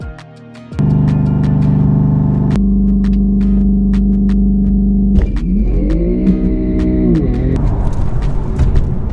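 BMW M4 accelerating hard, its engine roaring loud and close as the revs climb steadily through several gearshifts, each change marked by a brief dip before the pitch rises again.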